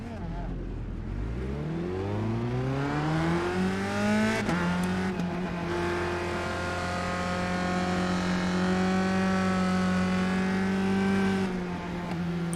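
A USF 2000 open-wheel race car engine in the iRacing sim at Red Bull Ring rises in pitch through the gears in repeated climbing sweeps, loud and close, with a buzzing drone once it settles at speed.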